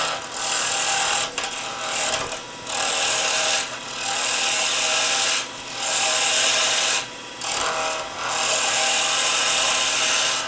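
A wood lathe turns a solid timber blank for a crochet hook or knitting needle, giving a steady close scraping hiss of the cutting tool that drops out briefly several times as the pressure eases.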